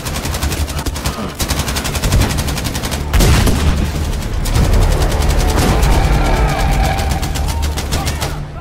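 Loud, rapid machine-gun fire rattles in long sustained bursts during a Battlefield 5 fight, close and dense, with a heavy boom partway through and voices talking faintly under it.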